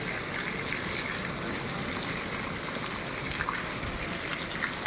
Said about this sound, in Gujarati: હાજી સુધી વરસાદ આમ બંધ થવાનું નામ નહીં લેતો.